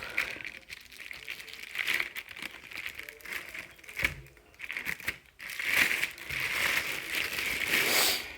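Plastic packaging crinkles and tears as it is unwrapped from a DREO Atom One room heater, the crackling rustle coming in uneven bursts up close, louder and denser toward the end.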